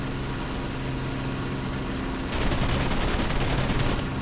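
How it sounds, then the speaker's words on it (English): Aircraft machine guns rattle in rapid continuous bursts in the flight combat game IL-2 Sturmovik, fired from an Fw-190 or P-39 fighter; the loud chatter begins partway through, over a steady engine drone. "I'm using two guns as well, not just the machine guns"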